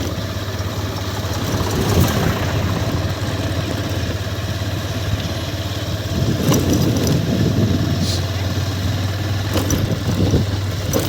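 A tractor engine idles steadily nearby with a low, constant rumble and a few faint clinks and rattles over it.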